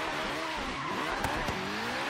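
In the video game Forza Horizon 3, a McLaren P1 set up for track use snarls under hard acceleration while its tires squeal and skid, with a couple of sharp pops near the end over the steady engine drone.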